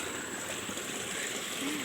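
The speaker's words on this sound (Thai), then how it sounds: "น้ำไหลลงห้วยเนาะนี่ห้วยแคบ" Water runs down a narrow stream in a rice-field setting as a steady, close rushing wash with no clear splashes.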